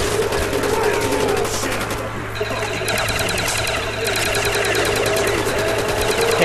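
Gunfire in the video game Black Ops Zombies, a dense, continuous spray of rapid shots with clattering mechanical texture and steady game background noise, loud throughout.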